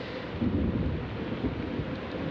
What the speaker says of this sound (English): there was a flash of light and a sound of thunder.